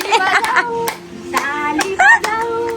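A friend claps in irregular bursts of several sharp hand claps along with a child's singing at a friend's birthday gathering, the claps close and bright over the voices.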